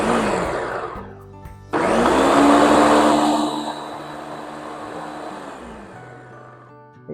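Blender whirring through black bean soup ingredients in short pulses, the motor surging loud, holding a steady high whine, then easing down and stopping; no talking over it.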